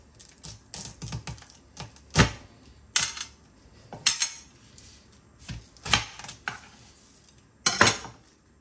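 A knife working through a whole head of garlic on a cutting board in a home kitchen, with a series of sharp clicking knocks and taps in uneven bursts and no talking.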